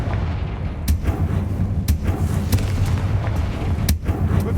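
Confringo fire spell blasts in Hogwarts Legacy gameplay, a string of sharp, booming explosive impacts punctuating a steady low rumble, several hits spaced a second or so apart.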